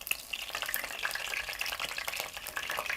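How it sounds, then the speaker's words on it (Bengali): Cauliflower kofta frying in hot oil over medium heat, turned until golden: a steady, dense crackling sizzle with bursts of spattering, close and continuous, with no voices. "তো আমি উল্টে পাল্টে এগুলোকে সোনালি করে ভেজে নিব।"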